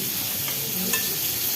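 Pointed gourd (potol bhaji) frying in a pan, a steady close sizzle with light stirring scrapes throughout.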